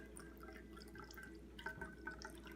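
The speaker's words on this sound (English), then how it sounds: "you get your ice strainer, you put it on your glass here" Chilled martini liquid strained through an ice strainer trickles into a glass, a soft, close dribble with faint drips and light splashes, fairly quiet and alone.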